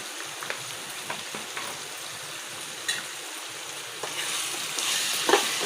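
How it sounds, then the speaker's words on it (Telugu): A paste of ginger, garlic and coconut fries in a pan with a soft, steady sizzle, plus a few faint scrapes and stirring clicks, heard close with no talking. "బాగా కొద్దిసేపు ఫ్రై కావాలండి."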